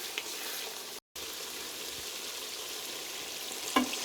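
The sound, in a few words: mutton added to sizzling butter masala gravy for makhni biryani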